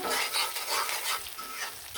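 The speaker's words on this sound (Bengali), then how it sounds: "পেঁয়াজটা লাল হয়ে আসা পর্যন্ত ভাজা ভাজা হয়ে আসা পর্যন্ত অপেক্ষা করবো" Chopped onions sizzle in a pan while being stirred, a close, dense frying hiss broken by rhythmic scraping swells, with no one speaking.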